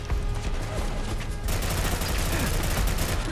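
Gunfire from a weapon in Fallout London, a steady run of sharp shots that grows denser and louder partway through, near and continuous.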